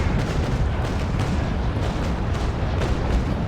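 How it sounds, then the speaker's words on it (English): Ship cannons in the naval game Naval Action fire a broadside, a dense, continuous rumble of overlapping booms lasting several seconds, loud and close with no clear gaps between shots. "we're going to fire anyway."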